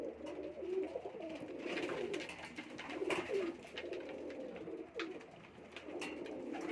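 Jaunsira and Sialkoti pigeons coo in a breeding loft, soft repeated throaty coos rising and falling at a moderate distance over steady background noise.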